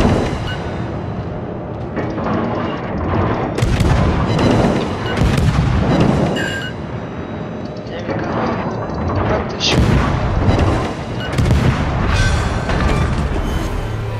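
Naval artillery in a video game ship battle booms repeatedly, loud heavy blasts recurring every second or two over continuous rumbling battle noise, with a voice talking over it.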